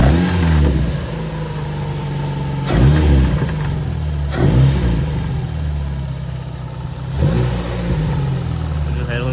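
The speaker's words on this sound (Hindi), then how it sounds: "लेट्स स्टार्ट द कार, देखते हैं इसकी आवाज़ कैसी आ रही है।" A car engine starts and settles into running, with a few surges of revving over a steady low rumble, close by, while people talk throughout.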